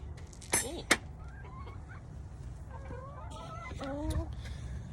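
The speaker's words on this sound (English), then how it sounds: "So one of the chickens was feeding on the scratch, and this is a golden comet" A Golden Comet hen gives soft, brief clucks and chirps close by while feeding on scratch, with a couple of sharp knocks early on and quiet outdoor ambience throughout.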